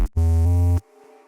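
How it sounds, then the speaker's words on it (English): A deep, sustained synth bass note designed in Serum 2 for bass music, loud and clean. It holds for about half a second with a slight retrigger midway, then cuts off abruptly into a faint tail. "The first bass, the opening bass, sound like this."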